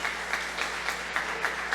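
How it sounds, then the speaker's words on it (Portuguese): A church congregation applauds during a service, steady close clapping with a few sharper bursts, continuous and fairly loud. "aplauda o Senhor mais uma vez"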